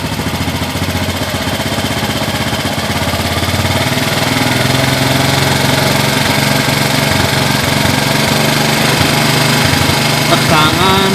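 A motorcycle engine revved to around 5000 rpm during a battery and charging-system check, a steady loud mechanical drone that holds continuously with a slight rise in intensity partway through.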